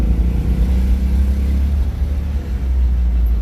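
A BMW Isetta's small engine drones and revs as it pulls through an upshift into third gear, a steady close low rumble with no talk over it.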